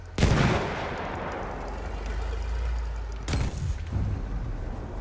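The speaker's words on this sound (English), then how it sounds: "Watch him come out and shoot me." Gunfire from an enemy soldier in Battlefield 1: a loud close shot with a long decaying rumble, then a second sharp blast a few seconds later, over steady battle noise.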